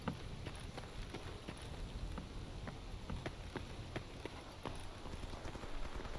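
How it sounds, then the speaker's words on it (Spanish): Steady rain in the game S.T.A.L.K.E.R. Anomaly, a dense continuous hiss of drops on surfaces with scattered louder patters and taps, filling the whole stretch at an even level without talk. "No puede ser que en todo este video lo único que escuchemos sea el ruido de la lluvia"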